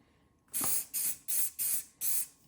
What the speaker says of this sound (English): The first thing I want to do is saturate the leather with activator